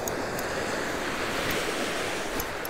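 Ocean waves break steadily on a beach during surf fishing, a loud continuous wash of surf with wind noise, no voices.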